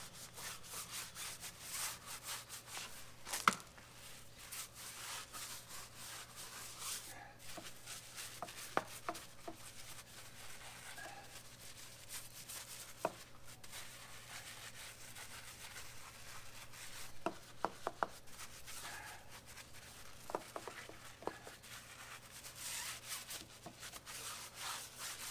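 A brush scrubs a car's paintwork during a two-bucket hand wash, giving a steady, close rasping rub that runs throughout with occasional sharper knocks and scrapes, no voices present.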